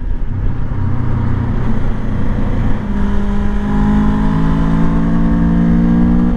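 A Rieju Aventura 500 motorcycle with both fuel tanks full, ridden on a paved road, its engine holding a steady drone under heavy wind rush that rises slightly as the rider speeds up, with no talking.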